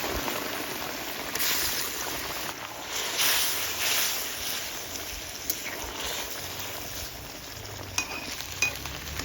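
Pre-fried fish added to hot mustard oil seasoned with radhuni and cumin seeds, giving a steady, loud sizzle and crackle with a few sharper pops and spatters near the end, heard close and without speech.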